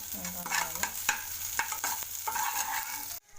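Onions and green chillies fry in a pan while a spoon stirs them, giving a steady close sizzle broken by scraping strokes and a few sharp clicks, ending abruptly.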